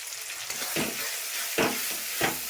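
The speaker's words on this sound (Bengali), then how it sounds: "ভালো করে এটা কষাতে লাগবে" A paste of onion, garlic, chilli and cumin powder sizzles in a hot pan, with a steady hiss and several scraping stirs in quick succession, close and without talk.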